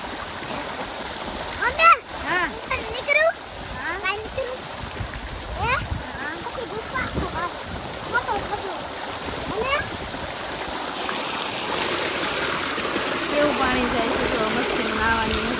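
Stream water flows and splashes steadily outdoors while several voices call and talk over it, and the rush grows fuller and louder toward the end.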